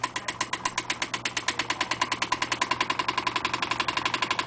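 A motor running at about 460 volts, then sped up, makes a steady, even putt-putt pulsing throb whose beats come slightly faster and louder toward the end. The sound is near and continuous, with no talking.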